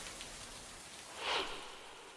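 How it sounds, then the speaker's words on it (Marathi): Heavy monsoon rain falls in Vasai Virar, a dense, steady hiss of rain that swells briefly in the middle, with no voices. "वसई विरार मध्ये सकाळपासून पावसाने जोर धरलेला आहे"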